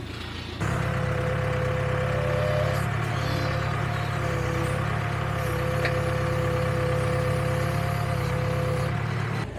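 Backhoe engine idling at a pond dig, starting after a brief pause and then running as a steady, loud, low rumble with a faint whining hum on top.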